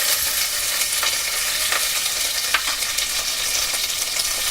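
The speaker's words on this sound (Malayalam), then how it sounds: "എണ്ണ മൂത്തിട്ടുണ്ട്. അപ്പം ഞാൻ കുറച്ച് കടുക് ഇടുകയാണ്." Mustard seeds crackling in hot oil with curry leaves, a loud steady sizzle with scattered sharp pops, close and continuous with no talking.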